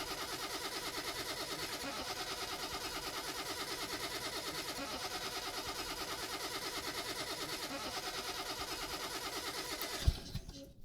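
In Car Mechanic Simulator 2021, the engine of a 2003 Sceo LX550 cranks on the starter during a compression test, a fast even rhythmic chugging that holds steady for about ten seconds before cutting off with a click.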